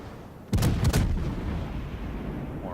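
Naval guns fire in World of Warships: a sudden heavy boom followed by a couple of quick follow-up blasts, then a long rumbling decay over a steady background hum of the sea battle.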